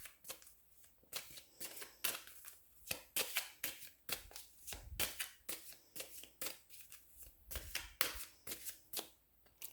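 Tarot cards being shuffled by hand in a quick string of crisp riffling bursts, close and fairly quiet, with no voices.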